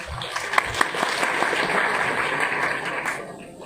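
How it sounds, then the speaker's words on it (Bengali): An audience claps for a madrasa, a dense, steady round of applause that swells slightly and then fades, with a few sharper claps standing out early. "আমার মাদ্রাসার জন্য একটা করতালি তোমাদের কাছ থেকে চেয়ে নিলাম।"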